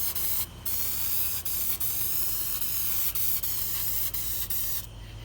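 Goof Off solvent hisses from a poorly working spray bottle onto an old Volkswagen bus with original paint, a steady close spray broken by several short pauses and sputtering gaps.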